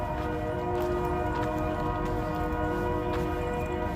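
A train horn blares steadily in sustained tones over the low, continuous rumble of a train rolling past nearby on a Seattle-area lakefront.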